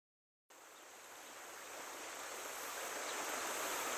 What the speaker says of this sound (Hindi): अब हम भी जाएंगे और आपको दिखाएंगे पास से वाटरफॉल।